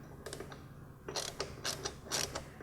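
A screw is backed out of a 2015-2018 Dodge Charger panel, a quiet, close ratcheting whir in several short bursts with brief pauses between them.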